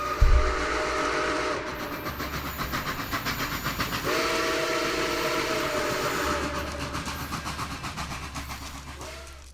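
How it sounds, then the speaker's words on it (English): A train passes outside with wheels clattering rhythmically and a horn sounding in sustained blasts, loud and steady throughout before fading slightly at the end. "Did you hear a train?"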